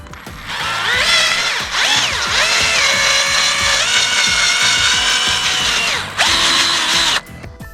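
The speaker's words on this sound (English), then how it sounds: "We drill through the orange." A power drill whines loudly and steadily, its motor pitch rising and dipping as it bores through an orange, pausing briefly before spinning up again.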